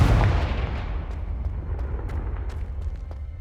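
A Confringo spell explosion in Hogwarts Legacy: one loud, deep booming blast at the start, followed by a rumbling decay that fades slowly over several seconds, with faint crackles.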